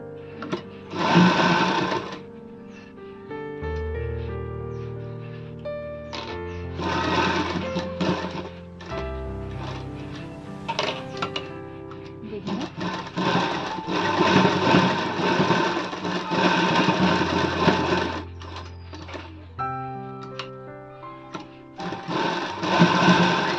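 A sewing machine stitches a princess-cut blouse with sheeting fabric, running in several long, steady mechanical bursts separated by short pauses, close and continuous with faint music underneath.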